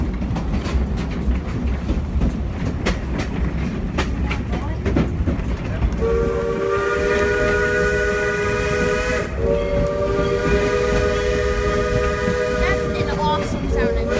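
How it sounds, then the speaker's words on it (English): A two-foot narrow gauge steam locomotive blows a long, steady multi-tone whistle while working up a grade, loud and close, after several seconds of chuffing and rail clatter, with a brief break before the whistle resumes. "That's an awesome sounding whistle."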